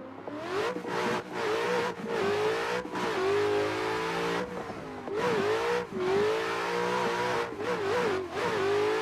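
Engine of a BMW F22 in a racing video game, revving hard and continuously with repeated upshifts and brief gaps between gears, loud and alone.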